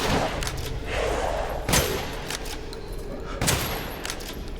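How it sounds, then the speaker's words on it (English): Shotgun blasts in Resident Evil Village, a few heavy booming shots spaced a second or two apart over a busy rumbling background, close and loud. "I'm not a fan of the shotguns in this game."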